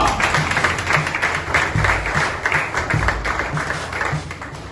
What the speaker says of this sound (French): Applaudis-moi.